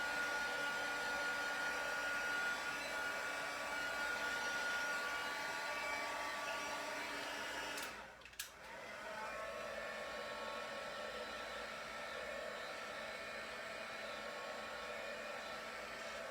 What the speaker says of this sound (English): Now this is actually an embossing gun from my card making days.